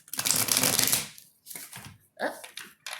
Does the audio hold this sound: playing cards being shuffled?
yes